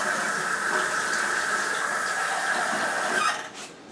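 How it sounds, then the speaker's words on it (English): Water is poured into a mixture as a continuous splashing trickle lasting several seconds, then it stops abruptly and leaves a quieter tail. "I'm going to have to get a little bit more water in there"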